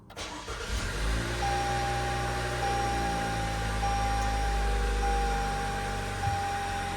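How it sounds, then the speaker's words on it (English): A Toyota RAV4 engine cranks and catches, then settles into a steady, fairly loud idle heard up close from start to finish, with no voices. "My car is currently powered off, and I am going to start it."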